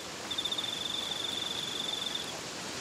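A single cricket chirps in a fast, continuous trill, fairly close, against a quiet background, stopping before the end.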